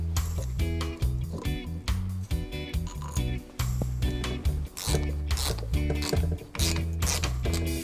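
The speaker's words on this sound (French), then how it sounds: "Et on visse la vis centrale." Tightening the central screw of a rotor puller on a moped engine, a busy run of close metallic clicks and ratcheting turns in uneven repeating bursts, with no talk.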